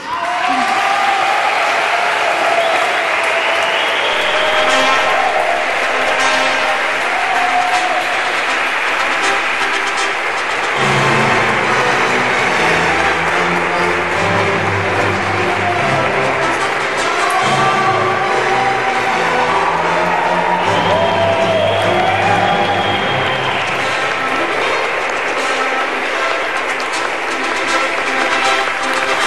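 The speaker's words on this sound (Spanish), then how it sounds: "Ahora voy a pedir un fuerte aplauso para Alma y Jesús." A studio audience applauds for about half a minute, a dense, steady wash of clapping that stays loud throughout, with tonal sounds layered over it.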